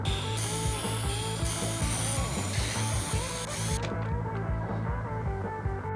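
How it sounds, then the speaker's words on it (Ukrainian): A cordless screwdriver whirs steadily with a ratcheting, mechanical buzz, close by and continuous for several seconds before the high hiss drops away, while opening the housing of a Dnipro-M HD-8 drill. "Використаємо акумуляторну викрутку."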